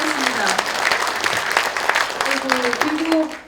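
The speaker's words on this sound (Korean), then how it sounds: "박수 한번 해주세요" An audience applauds at a book concert in Osan, South Korea, with steady, dense clapping close by and a voice talking over it before the applause fades at the end.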